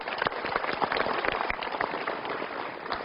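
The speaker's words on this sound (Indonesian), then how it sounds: "Berikan tepuk tangan." A seminar audience at an Indonesian motivational talk breaks into a steady wash of clapping that holds at an even, moderate level for about three seconds with no voices over it.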